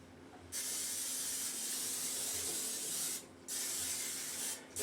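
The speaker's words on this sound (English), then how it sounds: "And while I'm spraying Pam" Pam cooking spray hisses from an aerosol can onto a sheet pan in long continuous bursts, close and steady, with two brief pauses between sprays.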